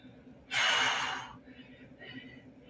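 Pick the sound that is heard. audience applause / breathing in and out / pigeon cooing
breathing in and out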